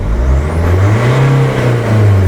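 A car engine revs up as the gas pedal is pressed during a diagnostic scanner check, the close, throaty note climbing and holding before easing back, heard alone without speech.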